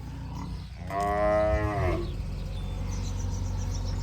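A single loud, drawn-out moo from a cow waiting for fodder rises for about a second over a low rumbling background hum.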